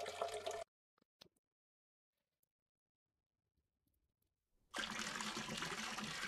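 Strong, steady rush of water pouring out of a small homemade mini well, starting abruptly and continuing loudly, after a quiet stretch with a few faint clicks.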